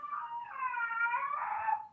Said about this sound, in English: Do y'all hear my puppy in the background?